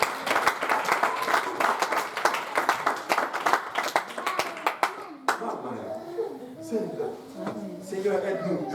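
A church congregation claps at an evening Pentecostal worship service, a dense burst of applause that tapers off midway into a raised voice and murmuring crowd.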